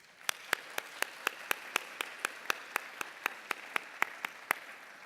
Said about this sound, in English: Let's give these graduates one more round of applause.